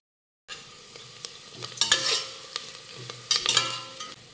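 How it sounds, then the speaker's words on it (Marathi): Fried onions with turmeric are stirred in a pan after a moment of silence, the spoon scraping in bursts over a soft sizzle, with two louder clattering rounds of stirring near the middle and end. "कांदा परतून झाला की यामध्ये घालूयात पाव चमचा हळद, मिक्स करून घेऊयात"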